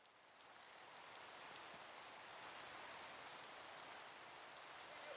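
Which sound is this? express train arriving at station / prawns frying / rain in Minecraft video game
rain in Minecraft video game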